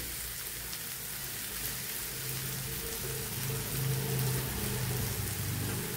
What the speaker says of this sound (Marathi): आता ह्याच्यात आपण हे आपले कट केलेले गिलके टाकून घेऊया